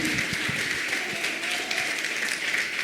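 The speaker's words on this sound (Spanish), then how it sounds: "si vas a aplaudir a Jesucristo, hazlo con fuerza" Church congregation applauding, a steady wash of many hands clapping throughout, dense and fairly distant, with no speech over it.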